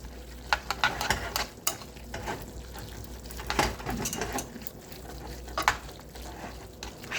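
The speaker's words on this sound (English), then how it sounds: "Stir it yet again." Ramen noodles being stirred in a pot, with soft scraping and wet sloshing strokes coming in irregular bursts over a faint background hum, close by and with no talking.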